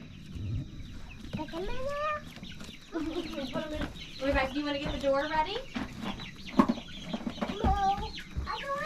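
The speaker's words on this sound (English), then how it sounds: "we should be good to get these chickens in" Chickens cluck and squawk close by in a continuous busy chorus while people talk over them, with a few louder calls standing out.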